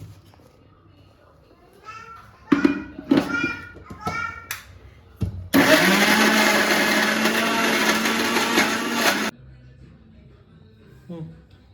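A mixer grinder whirs loudly and steadily for several seconds, grinding ripe banana with jaggery, cardamom and grated coconut into a fine batter, cutting off abruptly, with children's voices chattering before and after.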